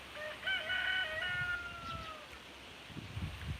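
A rooster crows once clearly on a rural South Dakota farm the morning after rain, followed by quieter farmyard clucking and rustling in the background.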